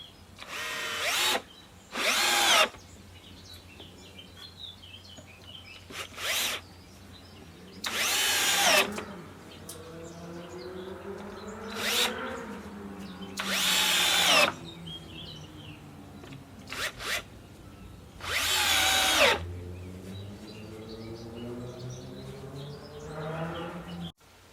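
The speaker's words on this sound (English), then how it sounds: "That will add support for the beam, strengthen it, and it will also support the decking. So let's screw it into position." Power drill driving screws to fix a wooden support into a bridge beam on a Japanese tea house garden bridge, in repeated short bursts of whirring with pauses between, with birds chirping outdoors in the background.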